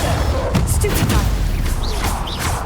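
A Stupefy spell cast in Hogwarts Legacy lands as a loud burst with sharp crackling flashes over a dense, booming game soundscape, followed by brief whooshing magical sweeps.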